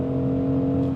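A 2025 BMW X3 M50 gives off a steady, low engine hum heard from inside the cabin, holding an even drone for the whole moment.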